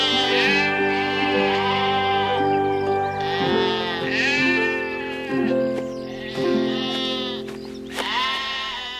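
A flock of sheep bleats outdoors, several loud, wavering calls overlapping and following one another in quick succession, close and clear with no talk.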